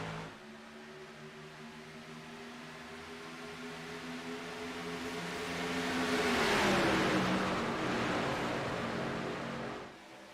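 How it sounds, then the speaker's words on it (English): Race cars in a sim racing game restart at Talladega: a steady engine drone swells as the pack roars past with a falling pitch, then fades back to a lower hum, with no talk. "We are back green flag racing here on lap 19 at Talladega."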